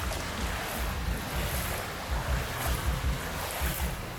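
Monsoon floodwater surges in sets of waves along a street in Pattaya, a loud continuous rushing wash with low rumbling swells and wind buffeting the microphone, no voices.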